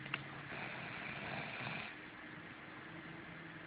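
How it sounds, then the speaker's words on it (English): A woman snoring while asleep, slow, low rasping breaths close by: one longer drawn-out snore and then a quieter breath, with a faint background hum and no talking. "She's snoring, and it's going to be posted on YouTube."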